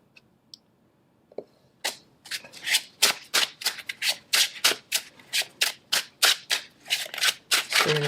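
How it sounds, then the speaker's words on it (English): Tarot cards being shuffled by hand close up, a few light clicks and taps followed by a rapid, rhythmic run of crisp riffling bursts, loud and regular. "I don't know why I feel like I want to shuffle these cards in another way."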